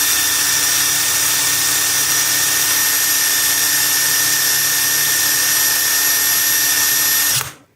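A MEKIBOR 800NM cordless impact wrench runs steadily in reverse, unscrewing, with a loud continuous high-pitched motor whine that holds even for about seven seconds and then cuts off abruptly.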